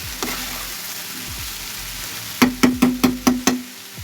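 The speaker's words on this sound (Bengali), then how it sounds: "বরবটি দিয়ে একটা ভাজা বানাচ্ছি" Potato and yardlong beans fry in a pan with a steady close sizzle, then six quick, evenly spaced taps of a spatula stirring against the pan near the end.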